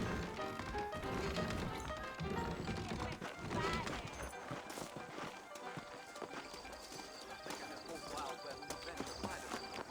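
Saddled horses in Red Dead Redemption trot with steady clip-clop hoofbeats and an occasional whinny, set in a New Orleans scene under in-game dialogue and a dense backdrop of music and effects.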